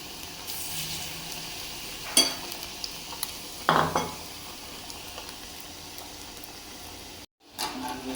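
Cauliflower pakora frying in oil, a soft steady sizzle with a few louder scrapes and clinks of a utensil against the pan, a brief dropout near the end, and no talking.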